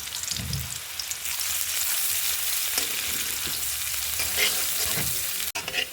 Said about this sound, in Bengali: দিয়ে আমি এটা ভাজা ভাজা করবো।